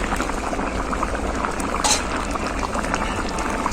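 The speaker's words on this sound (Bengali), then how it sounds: "নারকেল কলা আর মাছের মাথা দেওয়ার পর কিছুক্ষণ ফুটিয়ে নিয়েছি।" A pot of dal with coconut, banana and fish head boils steadily, with a dense, continuous bubbling and simmering close by and no break in the rolling sound.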